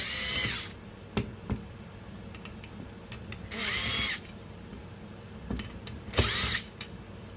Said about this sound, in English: Take out these 3 screws.